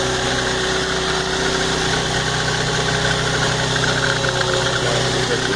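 Idling engine of a 2003 Infiniti G35 with a rattling air-conditioning compressor running dry without refrigerant, giving a continuous close mechanical clatter and knock over a steady engine hum.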